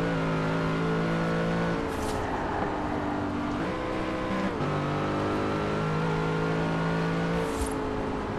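An Aston Martin in the racing game Forza Horizon 4 drives on steadily, its engine droning loud and continuous as the pitch climbs through each gear and briefly drops at shifts, with no talk over it.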